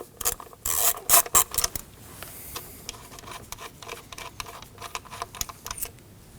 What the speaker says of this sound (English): Using an 8mm, we can go ahead and remove the bolt holding in the coil pack.